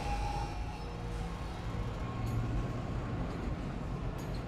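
The flight deck tram in Dead Space rumbles as it moves, a low, steady mechanical drone with a rail-like rattle, continuous and moderately loud with no talking.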